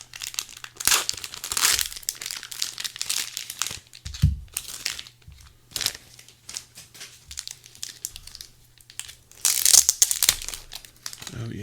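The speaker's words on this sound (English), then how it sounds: "let's rip open these sleeves" Card sleeve packaging for Mutant Genesis trading cards being ripped open, with repeated bursts of crinkling and tearing plastic, close and fairly loud, alongside a steady low hum and occasional soft thumps.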